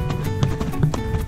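Horse hooves clip-clop in a steady run of soft taps near a reservoir, moderately close, with a faint murmur of talk in the background.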